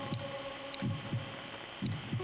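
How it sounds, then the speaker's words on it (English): Heartbeat sound effect from a horror video game: a looped, low, muffled double-thump pulse repeating steadily over a constant background hum, with no voices. "I have to say the heartbeat sound effect is a little bit grating."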